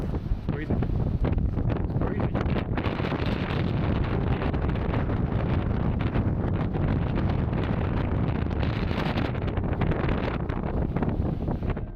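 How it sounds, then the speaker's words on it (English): Strong, continuous wind roaring and buffeting the microphone on a cruise ship's open sun deck at sea, loud and unbroken throughout, with a faint rushing of water beneath. "It was pretty cold and very windy."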